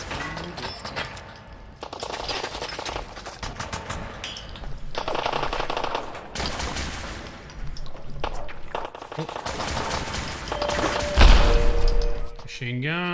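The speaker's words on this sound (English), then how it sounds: "Machine gun." Long bursts of rapid automatic machine gun fire in Fallout 4 VR, loud rattling volleys separated by short pauses, with a heavier thud near the end and a voice talking over parts of it.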